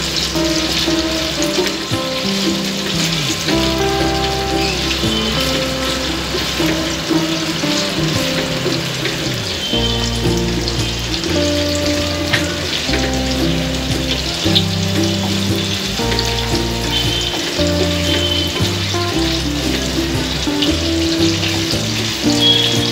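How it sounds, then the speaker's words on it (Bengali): Chicken pieces fry over a low flame in a pan for fried rice, giving a continuous hissing sizzle beneath steady, prominent background music. "মাংসটা একটু ভাজা ভাজা হবে।"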